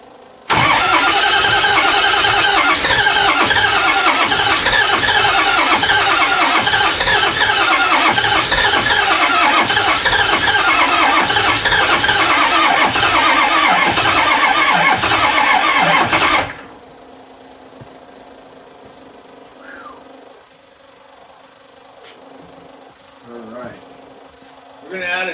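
A Ford 6.0 Powerstroke diesel with misfiring injectors cranks and runs in a loud, rough, uneven clatter for about sixteen seconds, then cuts off abruptly, leaving faint background noise.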